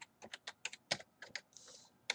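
Rapid clicking keystrokes on a computer keyboard, close and uneven, about a dozen taps with a short soft rustle partway through.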